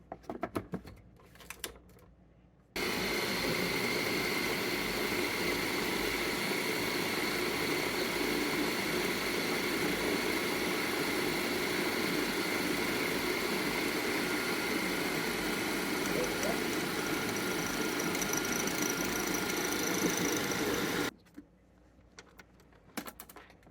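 A food processor grinds a large batch of sunflower seeds into nut butter, a loud steady motor whir with a gritty churning texture that runs unbroken for about eighteen seconds before cutting off, with quieter handling sounds before and after.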